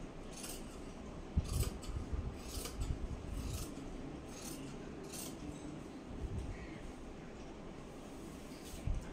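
Scissors cut along a marked line on a garment pattern, making quiet, repeated snips and rasping slides of the blades in a still room, with no talking.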